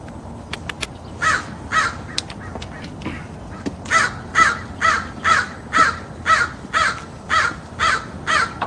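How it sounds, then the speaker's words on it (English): Crows caw in a steady series of about a dozen loud, harsh calls evenly spaced, following a few faint clicks, outdoors and close by. "Oh, the crows."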